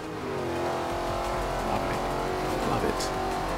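Sports car engine in Forza Horizon 2 revving and accelerating loudly and continuously, with tire noise mixed in, while someone talks over it throughout.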